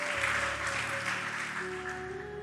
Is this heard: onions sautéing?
no